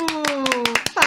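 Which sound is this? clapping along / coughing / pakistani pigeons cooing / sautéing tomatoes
clapping along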